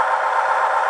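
Intermountain CN Tier 4 GEVO model locomotive's sound system running in notch 6, a steady, even engine drone with no voices.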